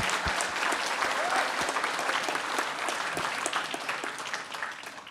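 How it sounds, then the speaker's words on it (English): Applause from a large crowd at a hackathon closing ceremony, thick and continuous throughout, with a few sharper nearby claps and faint voices mixed in. "I want everyone to, give themselves a round of applause."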